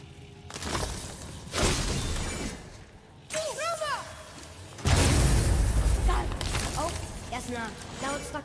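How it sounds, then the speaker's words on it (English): Objects shatter in God of War with sharp crashing bursts, followed by ringing, warbling tonal chimes and whooshes, several separate impacts across the span while people chat nearby. "I will never get tired of shattering things with this."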